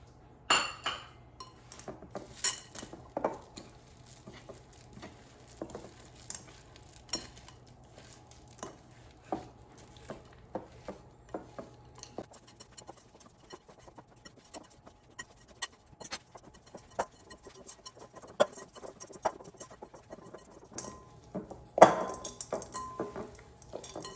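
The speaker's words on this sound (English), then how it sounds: "let's add the chocolate chips and mix them in" Chocolate chips being mixed into dairy-free cookie dough in a bowl, with irregular clinks and scrapes of a utensil against the dish repeating throughout at moderate distance, with no talk.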